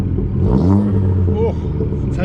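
Abarth 695 70th Anniversario fitted with a Monza Sport exhaust, its engine blipped once in a short rising rev that settles back to a throaty idle, close by, with faint background noise.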